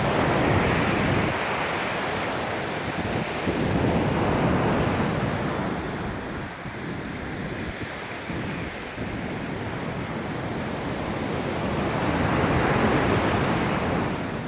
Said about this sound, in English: the sounds of the waves sounds really nice, because when they come splashing in, they echo